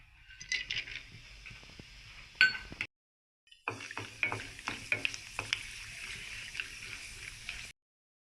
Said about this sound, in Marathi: रवा भाजण्याआधी मी इथे काजू बदाम थोडेसे तुपामध्ये तळून घेत आहे